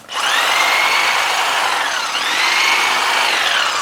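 A power tool cutting through a three-quarter-inch medium hardwood branch, a loud, high, steady whine that dips slightly in pitch midway under load before recovering, heard close with no talk.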